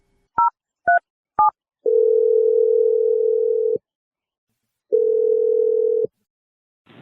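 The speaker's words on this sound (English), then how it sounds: "We're going to call boring old Josh and let you make your awkward call" Three short telephone keypad dialing beeps, then two long steady ringback tones separated by a pause, loud and clean with no talking over them.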